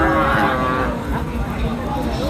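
Cattle low and moo at a busy livestock market, with a drawn-out call up front and more bellows over a dense crowd murmur, including nearby voices.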